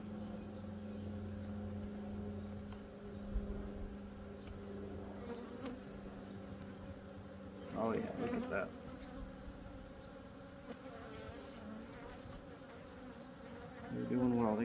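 Honey bees buzz around backyard hives in an Indiana apiary on a warm March day, a steady close drone with individual bees swelling past, while someone speaks briefly.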